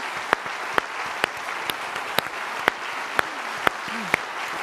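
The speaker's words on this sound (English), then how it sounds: "A huge round of applause," Audience applause for spelling bee contestants, a broad crowd of clapping hands filling the room, with a few sharp, regularly spaced louder claps standing out near the front.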